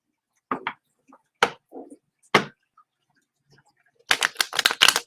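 Cards being shuffled and handled, giving a few isolated sharp snaps and flicks separated by silence, then a quick flurry of riffling clicks at the end.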